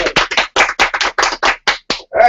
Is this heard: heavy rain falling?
no